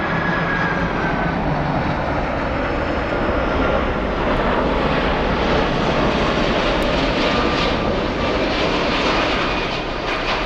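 A Lufthansa Boeing 747-400 in the new livery, flight 755 at Frankfurt, thunders close by with a loud, unbroken four-engine roar and faint whine lasting throughout, with no talk over it.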